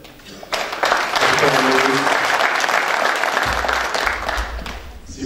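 At the CoTuMe' 2014 closing ceremony, an audience breaks into full applause, the clapping swelling quickly and holding steady, with some low murmur beneath.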